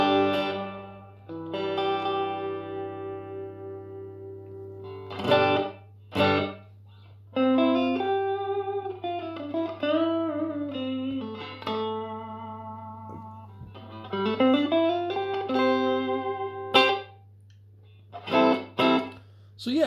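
Electric guitar played through an Electro-Harmonix Canyon delay pedal with reverb: sustained single notes and bent, sliding phrases with short gaps, each trailing off in a soft wash of reverb and repeats.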